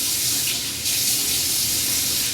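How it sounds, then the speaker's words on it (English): Hot water runs from a tap into a sink and is splashed onto the face before a shave, a steady close hiss and gush with brief swells of splashing. "Okay, I will also splash some hot water on"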